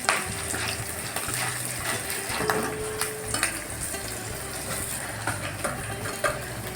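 Chana dal and coconut pieces frying in hot oil, a steady close sizzle with stirring scrapes and small crackles running throughout.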